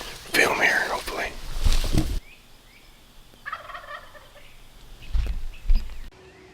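A wild Rio Grande turkey gobbles loudly in Kansas countryside with rattling bursts at the start. Fainter gobbles follow farther off, amid quiet outdoor ambience and soft whispered talk.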